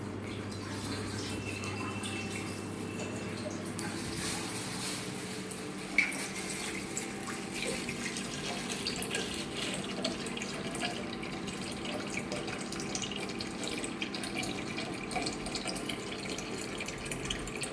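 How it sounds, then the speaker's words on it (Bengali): A child splashes and plays with water running from a tap, a faint steady trickle and stream with small irregular splashes and drips throughout. "তুই যে জল ঘাটতাছিস"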